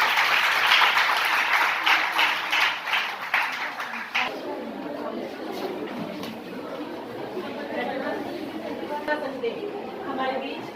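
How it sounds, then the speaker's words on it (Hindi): Schoolchildren applaud at a college Hindi week event, a dense burst of clapping in the first four seconds that fades into murmuring crowd chatter. "सभी बच्चे तालियों के साथ"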